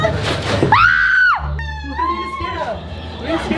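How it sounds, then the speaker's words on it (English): During a last-to-scream challenge a woman lets out one loud, sustained high scream amid crowd noise and a thump, then shouts and other voices follow close by. "She screamed already, she's out."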